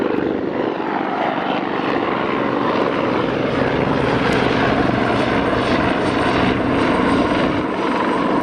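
Bond helicopter flying at Aberdeen Dyce Airport, its engine and rotor roar steady and loud throughout, close by, with no talk.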